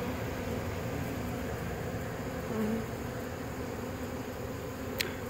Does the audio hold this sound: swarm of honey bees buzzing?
yes